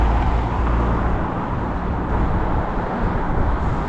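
Fast-moving road traffic on a street in Taipa, Macau, fills the scene with a loud, continuous roar of passing cars and engines close by, with no talk over it.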